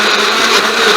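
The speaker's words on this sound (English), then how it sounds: "You gotta kind of shake the blender around so the blades can get on everything" A blender mixing bananas and water whirs steadily at high speed, a loud continuous motor roar with slight fluctuations as the contents churn.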